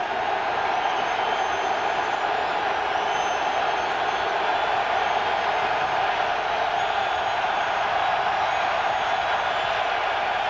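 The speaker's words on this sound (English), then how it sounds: "This crowd down here in the end zone is awfully loud." A loud football crowd roars steadily from the end zone at an Eagles–Bears NFC divisional playoff game in January 2002, a dense, unbroken wash of noise with no lulls.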